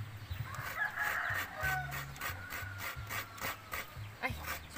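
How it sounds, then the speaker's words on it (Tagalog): A rooster crows faintly in a rural provincial village setting. The background is quiet and outdoors, with some light rubbing and handling noises close by. "May manok."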